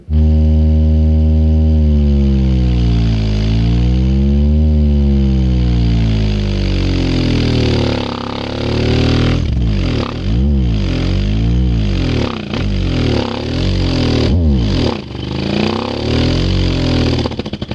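An X-10 subwoofer fitted with a standard roll (SPL) surround, playing loud in free air: deep sweeping tones glide up and down continuously for the whole stretch, steady and powerful with no talk over them.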